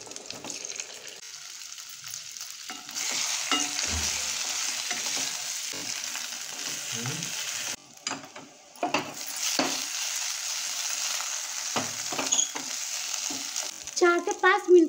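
Mixed vegetable manchurian balls are stirred into a hot tempering with sesame seeds in a pan, a close sizzle broken by scraping spoon strokes and brief pauses, with clanks near the end.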